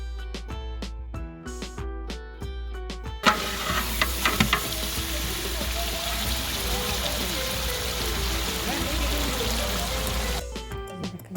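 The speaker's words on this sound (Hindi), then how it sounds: "यहाँ थोड़ी सी भुनाई और करेंगे, इसका पानी सारा खुश्क हो गया है" A large pot of chicken pulao frying during bhunai gives a loud, dense sizzle and crackle that swells after a few seconds and runs steadily to the end, with stirring scrapes and a voice talking over it.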